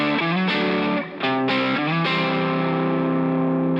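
Distorted electric guitar lead phrase played over the 4 chord, a few quick bent and slid notes leading into a long sustained ringing note, loud and up close with effects, no talking.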